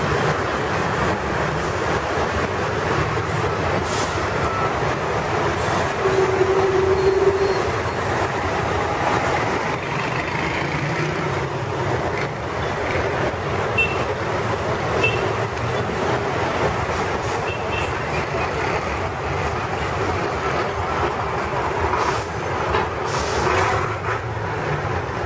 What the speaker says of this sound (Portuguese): Caminhão bitrem, caminhão de todo jeito, os caras não tem mais horário.